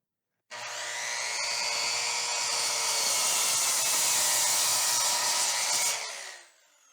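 A Harbor Freight Warrior 7-1/4-inch miter saw cuts a pressure-treated 5/4 by 6-inch deck board, a loud continuous high whine from blade spin-up through the cut, then winding down at the end, with no talking.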